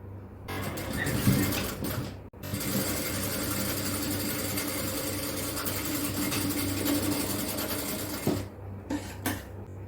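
A sewing machine stitches a folded hem on an XXL yoke nighty in one long, continuous close run with a brief stop near the start. It ends with a few stops and handling noises.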